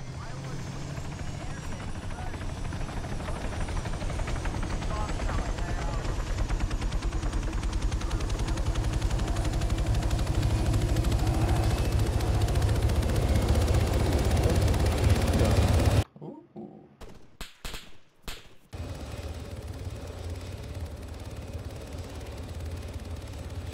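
Steady helicopter rotor drone in the video game Arma 3 (Altis) fills the clip with a low rumbling whir, briefly cut by bursts of gunfire and silence near the end, with voices talking over it.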